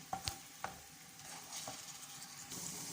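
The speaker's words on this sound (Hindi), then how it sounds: "हमारा मसाला जो है वो रेडी हो गया है और हम इसको थोड़ी देर भून लेते हैं" Masala frying in a pan before eggs go in, a quiet low sizzle with a few sharp spatula taps near the start, soft and close, no voices.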